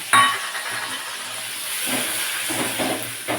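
Ground tomato paste hitting a hot pan for a vegetarian cauliflower and soya chunk curry cooked without onion or garlic, giving a steady hiss of sizzling that swells a little near the end, with no talking.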